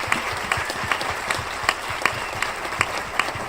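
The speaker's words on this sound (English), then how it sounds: "How about a round of applause for these amazing people?" Audience applause at a panel discussion on transportation and poverty, a steady burst of many hands clapping that fills the room for a few seconds without talk over it.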